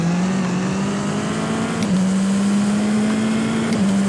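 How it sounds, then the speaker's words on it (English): Tatuus FT-60 single-seater race car in rFactor 2 accelerating hard at Pukehoke Park, a loud steady engine drone climbing in pitch with two quick upshifts, close and continuous with no talk. "accelerate hard for the back straight"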